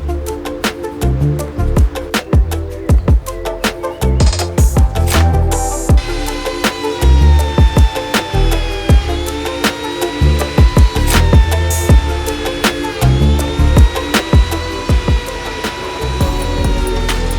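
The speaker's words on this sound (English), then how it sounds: "I threw a small chamfer bit in the trim router and I ran it around the base" Trim router fitted with a small chamfer bit cutting along the edges of a reclaimed lumber base, a loud high whine with sharp, repeated bursts as the bit bites the wood, close and continuous.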